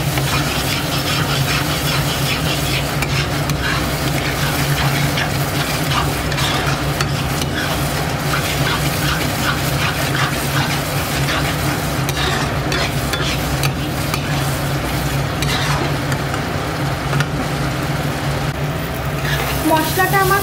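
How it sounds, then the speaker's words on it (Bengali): Spice masala with sour yogurt being stir-fried in a pan, a continuous loud sizzle with scraping stirring strokes throughout, while someone talks over it. "টক দইটা দেওয়ার পরে ভালো করে এবার মশলাটাকে আমি কিছুক্ষণ ধরে কষিয়ে নেব।"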